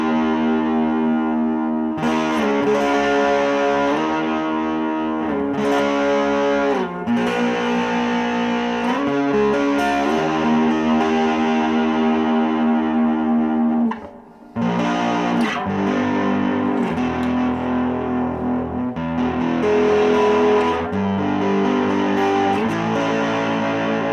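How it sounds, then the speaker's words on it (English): Distorted electric guitar strums sustained block chords through a Behringer HA 40R amplifier, loud and close, with a brief pause midway before the chords resume; no talking. "play some sort of block chords, obviously you get a really good sound off a block chord."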